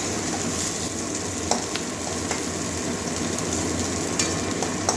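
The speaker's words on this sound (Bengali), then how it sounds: "পেঁয়াজটা ভালো করে ভেজে নেব" Onion fries in a pan with green chillies, a dense, even sizzle heard up close, with a few sharp stirring knocks breaking through the constant crackle, and no one speaking.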